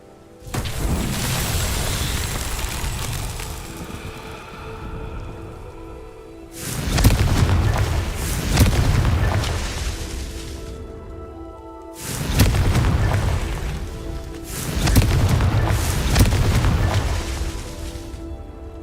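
Confringo blasting-spell explosions in the Hogwarts Legacy video game, three heavy booming blasts that each roll out into a long rumbling decay and are separated by quieter gaps.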